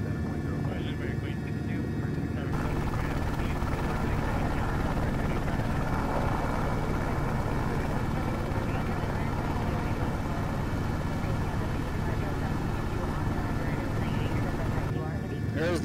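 A helicopter cruising at about 90 knots and 600 feet over the BNSF and Union Pacific rail yards in Los Angeles produces a constant loud rotor and engine drone, with voices talking over it.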